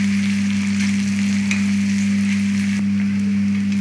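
Spring roll filling fries in a kadhai while being stirred, a steady loud sizzle with a constant low hum underneath and occasional faint scrapes, no voices.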